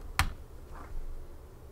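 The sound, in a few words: TV remote put down loudly on a wooden table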